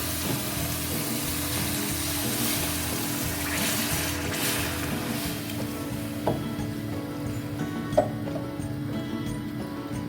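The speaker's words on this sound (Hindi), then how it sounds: "ये चावल अब हम इसमें डाल देंगे और साथ में हम डालेंगे यखनी" Yakhni broth is poured onto soaked, drained rice in a cooking pot, making a steady liquid pouring and bubbling sound with faint sizzle and a couple of small knocks.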